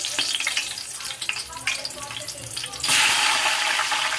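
Curry leaves crackle and spit in hot oil in a large cooking pot, then sliced onion drops in and the frying jumps to a loud, dense, roaring sizzle that holds steady to the end.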